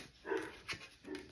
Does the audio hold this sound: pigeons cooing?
no